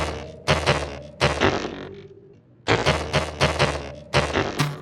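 A raw synth pluck melody in C, played dry with no effects, as a short bright phrase of plucked notes in rhythmic bursts with a gap in the middle, clear and alone.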